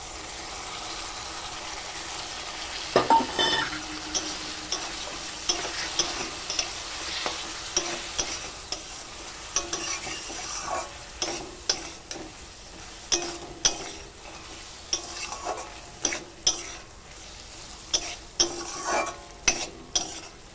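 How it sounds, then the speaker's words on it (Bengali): Poppy seed and green chili paste frying with ridge gourd in a pan, a soft sizzle with repeated scraping stir strokes at a steady rhythm, close and clear with no talk. "এখন পোস্ত আর কাঁচা লঙ্কা বাটাটা দিয়ে দেব।"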